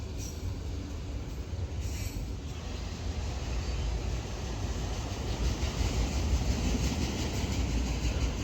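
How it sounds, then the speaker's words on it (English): A freight train rolls past carrying Southern Pacific and Kansas City Southern auto racks, a steady loud rumble of wheels on rail with faint squealing, continuous and close throughout. "This is a Southern Pacific auto rack followed by Kansas City Southern auto rack."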